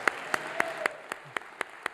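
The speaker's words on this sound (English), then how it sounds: "Let's give her a round of applause too" About eight sharp, evenly spaced claps ring out one after another at a breakfast awards event, each crisp and distinct against a quiet room.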